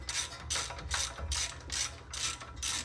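A hand ratchet snugs bolts on a Toyota truck's suspension, giving rhythmic, close ratcheting clicks in several quick back-and-forth strokes with a low background hum.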